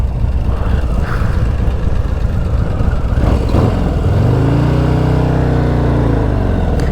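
A 2024 Harley-Davidson Low Rider ST motorcycle with a Screamin' Eagle Milwaukee-Eight Stage 4 kit rumbles and revs, rising into a sustained throaty roar, close by and continuous throughout.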